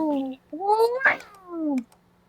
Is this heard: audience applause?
no